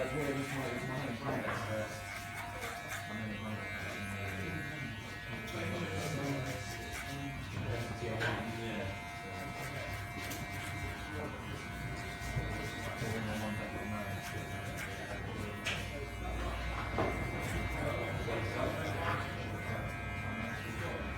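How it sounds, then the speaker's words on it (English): Electric hair clippers buzz continuously during a grade 1 fade haircut, a steady close hum with slight changes as the blades move over the head, while someone talks throughout. "Once I come back down, I then let my clipper naturally rotate with it"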